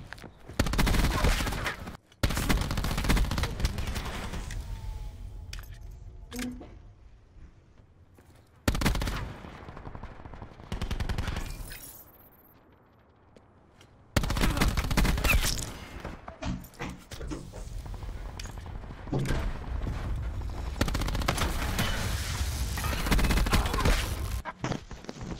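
SAUG submachine gun fire in Black Ops 4, loud rapid bursts of automatic shots broken by short pauses and quieter stretches, close and dominant, with faint game effects between bursts.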